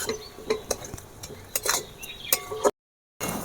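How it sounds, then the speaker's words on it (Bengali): Ginger paste with turmeric and cumin powder is fried and stirred in a pan for a fish curry: scattered spoon clinks and scrapes over a soft hiss, with a short silent break near the end. "আদা বাটা হলুদ গুঁড়ো জিরে গুঁড়ো সমস্ত মশলা আমি ভালো করে ভেজে নেব"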